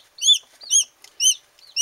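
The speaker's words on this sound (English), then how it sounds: "Looks like a rooster's got the spot." A rooster with long head feathers and long wings gives a quick run of four sharp, high clucking calls, evenly spaced and close by.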